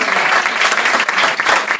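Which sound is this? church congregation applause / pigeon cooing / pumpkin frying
church congregation applause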